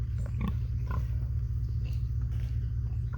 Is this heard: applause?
no